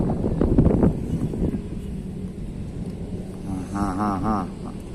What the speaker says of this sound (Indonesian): Aduh, anginnya ya, gawat kali anginnya nih.